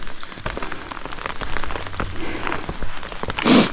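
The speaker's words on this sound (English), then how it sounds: "Because the rain definitely seems like it's picking up." Steady rain falls on a forested stretch of the Appalachian Trail near Flint Mountain Shelter, a dense close patter of drops on leaves and ground with no voices.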